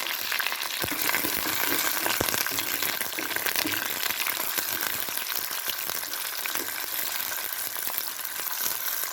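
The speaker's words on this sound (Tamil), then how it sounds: "வெந்தயம் பொரிய ஆரம்பிச்சிருச்சு" Continuous crackling sizzle of fenugreek seeds spluttering in hot oil, steady and close, with scattered sharper pops throughout.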